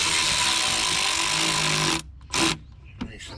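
Fitting tightened on a Subaru STI during an EVAP smoke test, a steady mechanical whirring for two seconds that cuts out, followed by two short bursts of noise, close up.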